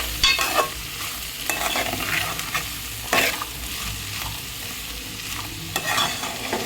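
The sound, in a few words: onions frying with bitter gourd in a pan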